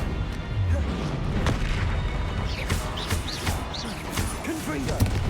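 A disarming spell cast in the Hogwarts Legacy video game: a series of booming magical blasts and pops over a steady rumbling battle bed, with a few whooshing streaks and a voice heard briefly.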